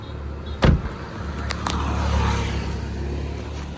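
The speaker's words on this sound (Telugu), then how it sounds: "అసలు ఇంజిన్ సౌండ్ కూడా బయటగానే చాలా స్మూత్గా ఉంది" A 2009 Maruti Suzuki Wagon R engine idling smoothly, heard from outside as a low, even hum after a door thud, with a few faint clicks over the steady drone.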